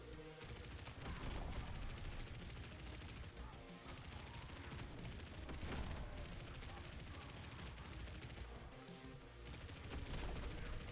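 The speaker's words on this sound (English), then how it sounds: "So you can see my little explosion going out too." Small weapon explosions in the video game Grind Survivors sound as a dense, continuous barrage of rapid blasts and gunfire-like pops, steady and busy throughout under a faint voice.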